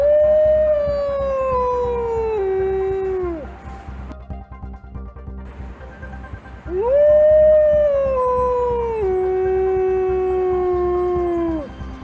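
A wolf on a beach lets out two long, loud, close howls, each rising then falling slowly, with a short quieter gap between them.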